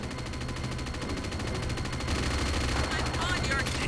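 Rapid repeated cannon fire from a flak cannon in Unreal Tournament, steady fast shots with battle noise, a bit quieter and growing slightly louder near the end.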